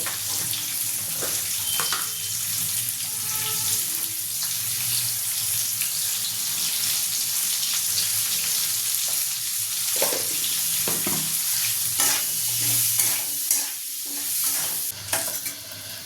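Potatoes fry in hot oil seasoned with salt and turmeric, giving a steady close sizzle with stirring scrapes and clatter throughout. No one speaks.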